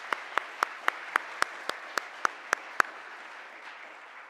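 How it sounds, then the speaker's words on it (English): At a nurse pinning ceremony, a single pair of hands claps about ten times in a steady, even rhythm, close and crisp, then stops, leaving faint room tone. "give yourselves a round of applause"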